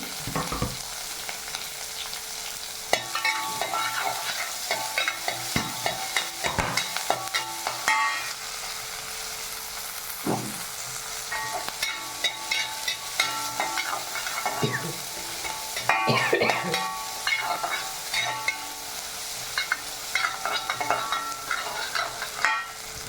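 Onion frying in a kadai, a continuous sizzle with repeated scraping and clinking strokes of a spoon stirring through it, close and moderately loud, with no talk.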